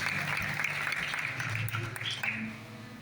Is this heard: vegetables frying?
no